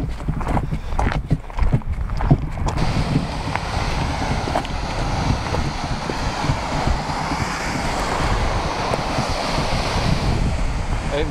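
A continuous roaring rush of a waterfall in Iceland near Egilsstaðir, loud and steady, with some wind buffeting the microphone at the start.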